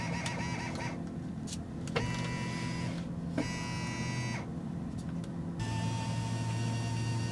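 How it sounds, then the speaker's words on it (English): Tesla Model 3 steering wheel moving on its motor, a faint whirring electric drone that starts, stops and changes pitch in short segments as the column adjusts, quiet and mechanical with no talking. "you're going to push it to the right or to the left to move the steering wheel"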